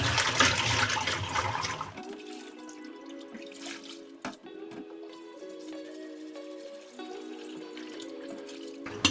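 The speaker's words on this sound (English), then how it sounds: "I'm ready with the cold water and I will be pour the vegetable in" Vegetables going into a pot of cold water in a home kitchen while cooking Vietnamese sweet and sour chicken: a brief splashy pour at the start, then quiet clinks and faint water sounds continuing at low level.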